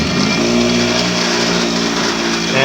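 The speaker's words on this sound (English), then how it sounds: "This is a really powerful grinder, guys, as you're about to see." An old-school 6-inch bench grinder runs at full speed, its loud steady motor whine carrying strong harmonic tones close up, with no talk over it.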